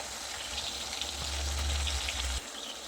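Raw mango and tomato fry in a pan over a low-to-medium gas flame, giving a continuous soft hiss and crackle with a brief low stirring rumble, close and fairly quiet.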